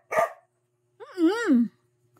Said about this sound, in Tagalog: Ang ingay ng aso kong pasawa.